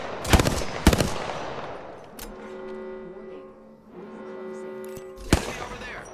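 Video game gunfire in a shield-recharging shooter, two sharp bursts of rapid shots up close, then a humming lull and a final loud shot, with a voice speaking faintly under the action.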